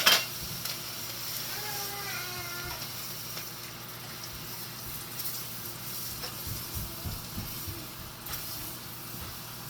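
Garlic sizzles in hot oil with curry in a pan for a Jamaican meal, a soft steady frying hiss with some stirring and utensil clatter, close but fairly quiet, no talking.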